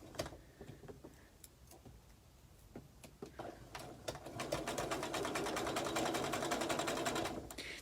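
A sewing machine stitches a table runner, at first in short clicking starts and stops, then in a steady, fast, rattling run that stays close and fairly quiet before easing off at the end.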